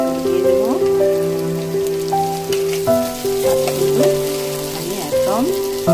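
Chopped tomatoes meet onions already fried until browned, producing a loud, crackling sizzle mixed with tonal squeaks and scrapes from stirring, and no voices.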